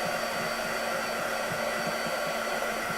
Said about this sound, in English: This is an embossing gun. It does get really hot